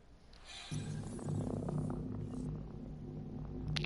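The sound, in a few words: cat purring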